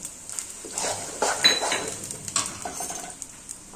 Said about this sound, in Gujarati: હવે બધું જ આપણે પ્રોપર રીતે મિક્સ કરી દેશું